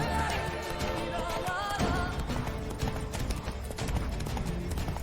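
In The Witcher 3, the horse Roach gallops along with quick, steady hoof clip-clops under game music and ambience, moderately loud and continuous for several seconds.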